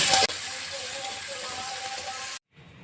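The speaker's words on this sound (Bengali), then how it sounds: "তেল গরম হয়েছে দেব পেঁয়াজ কুচি আমি পেঁয়াজ কুচি লাল লাল করে" Chopped onions hit hot mustard oil in a pan, a steady loud sizzle and hiss that runs for about two seconds before cutting off abruptly.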